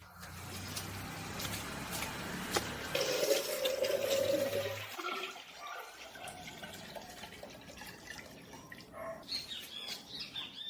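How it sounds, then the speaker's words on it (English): Water poured into a candle-type water filter until it is completely full: a close, steady splashing pour over the first five seconds, then quieter trickling and small clinks. "I'm going to add more water, and I'm going to fill completely"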